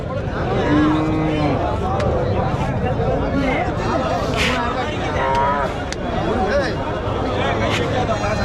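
Native cattle moo repeatedly at a busy livestock market, their calls rising over a constant babble of crowd voices and nearby talk.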